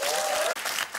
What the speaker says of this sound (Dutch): mag ik uw applaus voor neuroendocrinoloog Julie Bakker van de Universiteit van Luik.